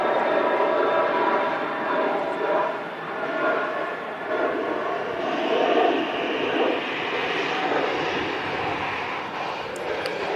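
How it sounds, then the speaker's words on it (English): Gulf Air Boeing 787 Dreamliner at Manchester Airport, a steady, broad jet engine roar that holds loud for the whole stretch with a slight rise and fall, heard alone. "There goes the Gulf Air 787 Dreamliner"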